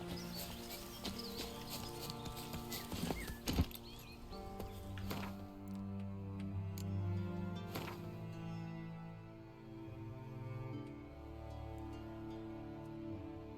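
Roach, Geralt's horse in The Witcher 3, moves with soft, rhythmic clip-clop hoofbeats under a quiet ambient game soundscape with birds and a low musical drone, faint and steady throughout.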